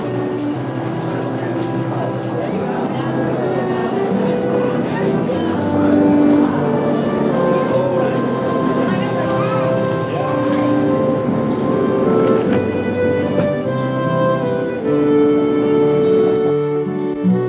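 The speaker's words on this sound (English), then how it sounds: "Transferring the steam power to a series of shafts, flywheels, and pulleys that drive the gears and screws interconnected by leather belts" Steam-powered cider mill machinery, with shafts, flywheels and pulleys driving gears and screws through leather belts, gives a steady, loud mechanical drone with layered humming tones and faint rhythmic clanks throughout.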